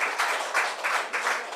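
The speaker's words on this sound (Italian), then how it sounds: "Un applauso a Matteo" An audience at a presentation on the Einstein Telescope project claps together in steady, moderately quiet applause, a dense patter of hands with no voices over it.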